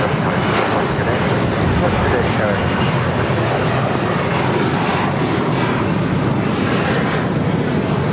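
A 34-year-old converted MD-11 freighter jet at LAX gives a loud, steady, close engine roar that lasts throughout, with a voice faintly under it.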